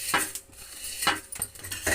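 A knife cuts cucumber pieces for pickle, striking a board in a few crisp, close taps spaced about a second apart.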